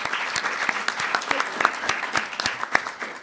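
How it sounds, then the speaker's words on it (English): A crowd claps steadily in applause at a governor's bill signing ceremony, dense and continuous throughout, with a voice faintly underneath. "Yeah, she deserves applause."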